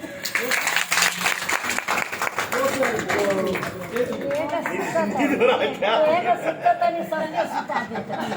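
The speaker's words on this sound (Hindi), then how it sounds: "एक बार ताली होनी चाहिए था।" Audience at a lecture clapping briefly, a burst of hand claps mixed with chatter and some chuckling, fading into murmuring voices and talk.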